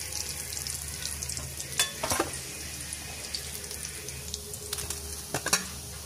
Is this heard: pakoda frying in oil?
yes